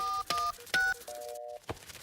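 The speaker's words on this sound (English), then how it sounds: "I'll ring for more elves. Oh, where can I get a signal on my phone?" Cartoon mobile phone keypad being dialed: a quick run of clear electronic DTMF key tones, several short beeps followed by a longer held tone, clean and alone.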